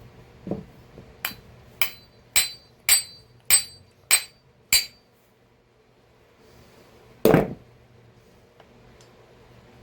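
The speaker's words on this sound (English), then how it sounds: "It might sound like I'm hitting this hard, but I'm not." Sharp metallic taps strike a part of a Magnum 52 four-stroke model engine, seven close, evenly spaced knocks in quick succession, then a pause and a single duller thud, with no talking.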